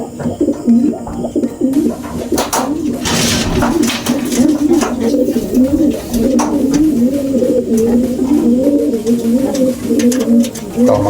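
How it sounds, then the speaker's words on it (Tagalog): A pigeon coos loudly and close by in repeated throaty, rolling phrases, over faint background rustling. "Bali itong ibon na to talagang grabe yung humi niya."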